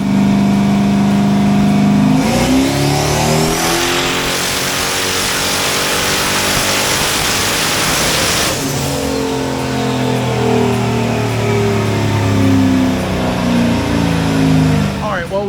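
Red Dragon car on a dyno during a power pull making over 500 horsepower on low boost, engine loud and close, rising through the revs in a long sweep, backing off, then climbing again.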